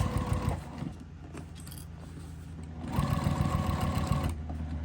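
A sewing machine top stitching along the edge of a crossbody bag runs in two close, fast bursts of rattling needle strokes, with a quieter pause between them and no voices.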